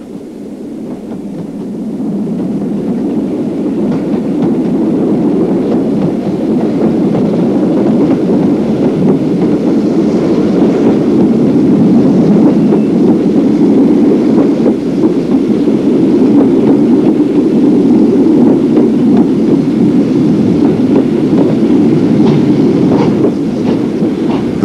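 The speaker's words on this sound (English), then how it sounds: "Here the train is approaching the top of the climb after Glenfinnan" A steam train laboring up a 1-in-70 gradient after Glenfinnan on the Fort William to Mallaig line in 1959, with a continuous heavy rumble and rhythmic clatter, loud and sustained, building slightly.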